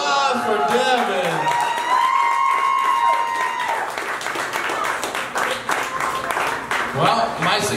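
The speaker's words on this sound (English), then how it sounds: "let's give him a big round of applause" An audience at a taco eating contest held during a comedy show claps and cheers in a steady round of applause that carries on for several seconds, with a whoop or two rising above the crowd.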